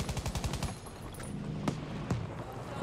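Battlefield V automatic weapon fire on PC: a fast rattling burst of shots up front, then scattered sharper single cracks over a busy battlefield background.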